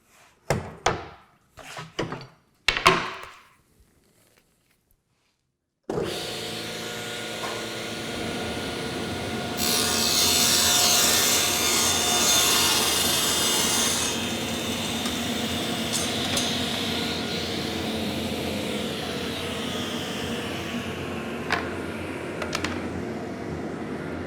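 A saw cuts wood for a router table drawer: a few knocks and thumps, a pause, then the saw spins up into a steady whine that intensifies mid-cut and settles as it runs on, close and loud.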